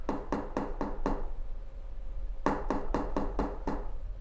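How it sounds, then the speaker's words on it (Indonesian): Knocks on a glass bedroom window come in two bursts of five and six sharp, evenly spaced raps separated by a short pause, close and alone against a low background hum. "Berarti suara ketukan itu ya kayak suara jendela diketuk"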